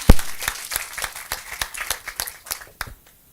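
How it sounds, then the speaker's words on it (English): A round of applause for a panel speaker at an education conference, a short burst of clapping from a modest audience that thins out and stops after about three seconds. "Big round of applause for Byron."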